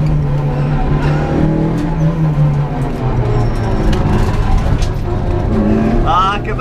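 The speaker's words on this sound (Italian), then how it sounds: "La macchina non è assolutamente insonorizzata, non ha neanche un pannello, quindi si sentono tutte le pietroline." Renault Clio 1.8 Gr.N rally replica with a rollbar and no sound insulation, engine droning and shifting pitch on the road while loose stones rattle against the bare underbody; the noise is steady and close, with a voice briefly at the end.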